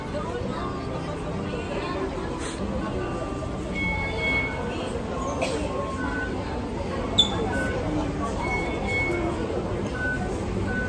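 A steady rumble fills the inside of a moving MTR train in Hong Kong, with a crowd's chatter and babble running underneath throughout.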